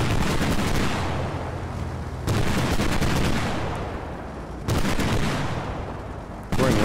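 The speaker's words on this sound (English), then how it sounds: "Throwing rounds on the side of the building doesn't appear to be penetrating very well." Sustained automatic gunfire in the Squad Ops military shooter, loud rapid bursts with heavy booming reports that cut off and restart in several sharp bursts.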